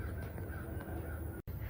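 Several American crows cawing at a lakeside during an outdoor nature walk, faint and distant, with repeated caws over a steady background hiss.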